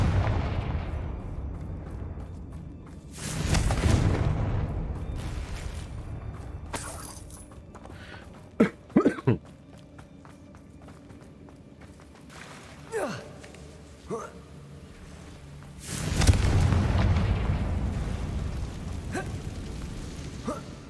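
Confringo blasting-curse explosions go off in Hogwarts Legacy inside a cave: two heavy booming blasts with sharp cracks and debris in between, separated by quieter stretches.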